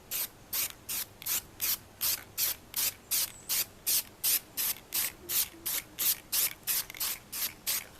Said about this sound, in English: So shake it up, make sure you're spraying good.